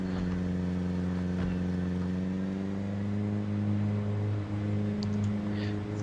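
An ambulance, a modded car in the zombie survival game Project Zomboid, drives along with a steady low engine hum and layered harmonic drone, holding an even level throughout with no voices.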